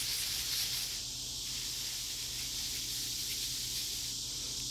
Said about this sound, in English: I'll spray some more of my basil up here.